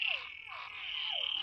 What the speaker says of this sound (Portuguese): a alegria dos sapos tá dizendo tudo